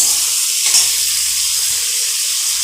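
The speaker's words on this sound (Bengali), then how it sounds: "এখন আমি মশলাটা কড়াতে দিয়ে দেব, দিয়ে আমি কষিয়ে নেব।" Spice paste of turmeric and Kashmiri chilli frying in a wok for a rohu fish curry with potato and cauliflower, a steady close hiss of sizzling oil with a brief stirring scrape, no talk.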